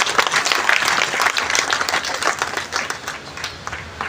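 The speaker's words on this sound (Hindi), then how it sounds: "तालियां की आवाज जो ये बताती है कि हम नंबर 1 नहीं है" An audience at an LIC Karnal division meeting claps in a dense, loud burst that fades slightly toward the end.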